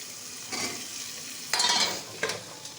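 Ridge gourd (toriya) seasoned with salt and chili sizzles in a pan as it is stirred, with three short scraping strokes over a soft, continuous fry.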